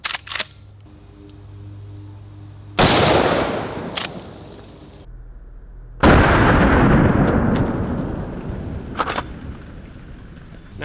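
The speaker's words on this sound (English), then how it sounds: "So this is my Henry lever action 4570, and we're shooting this monster out of it." Two booming shots from a Henry lever action 45-70 rifle fired at a head target, each a sudden loud blast with a long decaying tail, separated by a few seconds of quiet handling noise.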